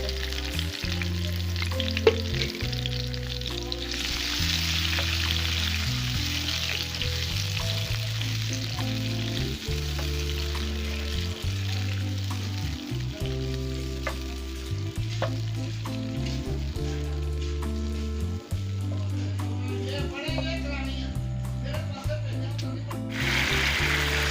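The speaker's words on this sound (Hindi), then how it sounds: "अब मैं इसमें ये फिर शामिल कर रही हूँ टमाटर, सब्ज़ मिर्ची और प्याज।" Tomato, green chili and onion frying with garlic and ginger in a pan, a loud continuous sizzle with repeated stirring knocks and scrapes throughout, close up.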